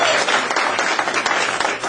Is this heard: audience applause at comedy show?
yes